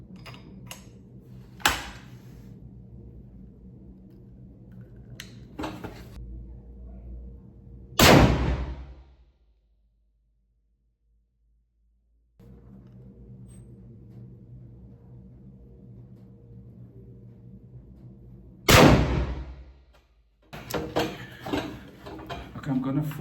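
A .30-06 German triple-barrel rifle with a thin Krupp barrel fires Hornady 165-grain SST bullets outdoors, two loud, sharp reports about ten seconds apart, each with a short decay, amid lower clicks and handling noises.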